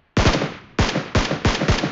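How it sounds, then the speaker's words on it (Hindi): Automatic gunfire in the battle royale game BGMI, four sharp, loud bursts of rapid shots with brief gaps between them, close and alone with no talk. "उसको उधर से गोलियां पड़ रही थी"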